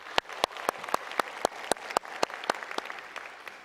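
Church congregation applauding during a Sunday worship service: sharp, evenly spaced claps in a regular rhythm, fairly close and moderately loud, with a soft wash of background sound between the beats.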